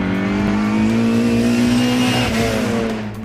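A Mini Miglia racing car engine with a racing gearbox is held wide open near its rev limit, giving a loud, continuous, steadily rising rasping whine with no talk over it.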